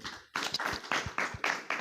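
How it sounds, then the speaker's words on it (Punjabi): An audience at a gathering claps for a child, a short burst of several quick hand claps heard close and clear. "ਇਸ ਬੱਚੇ ਦੇ ਨਾਂ ਤੇ ਤਾੜੀ ਮਾਰਦੀ ਹੈ ਜੀ"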